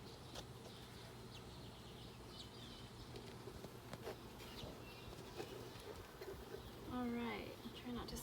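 Honey bees buzz softly throughout while new bees are installed in a hive, a faint steady hum with occasional nearer passes, joined by a brief bird-like call near the end.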